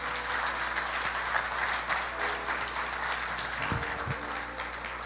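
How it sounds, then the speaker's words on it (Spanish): Church congregation in a Spanish-language service giving sustained applause, a broad, even roar of many hands clapping that holds steady throughout, with a couple of low thumps near the end. "A darle un aplauso al Señor y baje."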